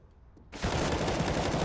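An AK rifle fires a sustained automatic burst in Counter-Strike on the Overpass map during an esports match. Near silence gives way abruptly to loud, dense, continuous gunfire that lasts to the end.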